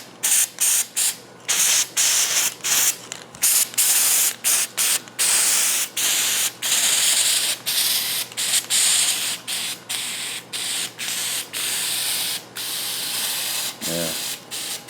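Flex Seal aerosol can spraying onto a shower, loud close hissing in rapid repeated bursts with brief gaps, sputtering as the can nears empty.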